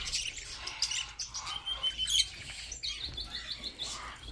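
Small and large pet birds chirp and tweet inside a parrot store, a dense run of high, overlapping calls with sharp squeaks throughout, fairly close and steady with no talking.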